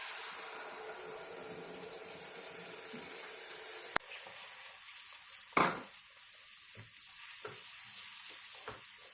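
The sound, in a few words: curd frying in oil with spice powders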